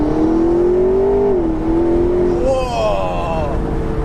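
A McLaren 650S Spider sports car accelerates on an open road, its engine note rising steadily and loud, dipping briefly as a gear changes, then climbing again with a higher whine.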